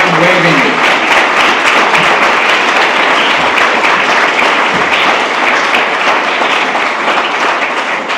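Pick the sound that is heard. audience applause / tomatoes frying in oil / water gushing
audience applause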